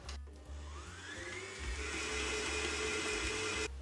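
An electric mixer whirs steadily as egg yolks and sugar are beaten for Easter paska, a continuous motor hum that holds for several seconds, rising slightly in pitch and cutting off abruptly at the end.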